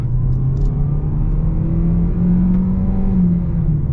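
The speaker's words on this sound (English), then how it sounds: "See what the acceleration's like here." A 2025 hybrid sedan, a Toyota Camry or Hyundai Sonata, accelerating in sport mode, heard from inside as a loud, steady engine hum and road rumble with a slowly rising tone.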